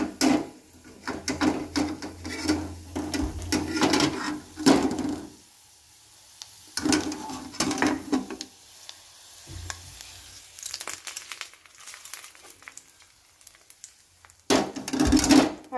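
Ghee tempering (thalippu) for sambar rice sizzling and crackling in a pan, loud bursts of frying separated by quieter pauses, with occasional stirring and utensil knocks.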